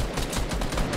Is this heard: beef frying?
no